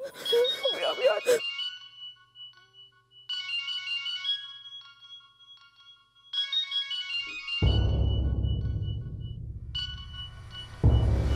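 A phone ringing with repeated electronic ringtone bursts separated by pauses, interrupted by a swelling dramatic whoosh in a television drama scene.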